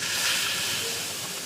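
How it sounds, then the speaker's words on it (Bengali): Milk poured over fried pabda fish in a hot pan of cashew-chilli masala hisses steadily at moderate loudness, a continuous sizzle with no talking. "দুধটা দিয়ে দেবো"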